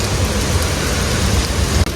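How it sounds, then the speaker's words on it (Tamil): Heavy rain pours down steadily in a dense, continuous roar during a flood in Jaffna, Sri Lanka, with no voices. "நல்ல மழை அடிக்குது"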